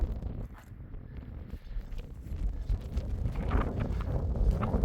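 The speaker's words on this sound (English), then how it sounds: "because it's getting windy now." Steady wind buffeting the microphone on a hiking trail in Tongariro, New Zealand, a broad low rumble that builds gradually over a few seconds, with faint rustling and footsteps underneath.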